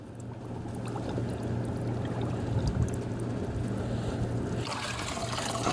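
Water trickles and splashes steadily for several seconds as it drains from a waterlogged hanging basket, a continuous close-up pouring and dribbling with a low hum underneath.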